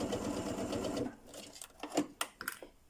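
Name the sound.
sewing machine stitching an invisible zipper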